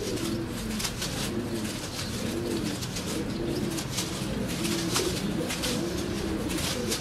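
Tumbler pigeons coo in a soft, steady, repeating pattern close by, with a constant bed of outdoor noise and no speech.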